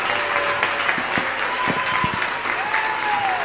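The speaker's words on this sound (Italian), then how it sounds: "Applausi, vai! Forte, forte!" Studio audience at a television show applauding, a dense, continuous clapping close and loud throughout, with a few voices underneath.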